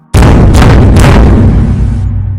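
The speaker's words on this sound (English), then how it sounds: "She suddenly started to bang on the door." Heavy pounding on a door: a loud, sustained barrage of booming bangs with a few sharper hits, close and forceful, lasting a couple of seconds with no voices.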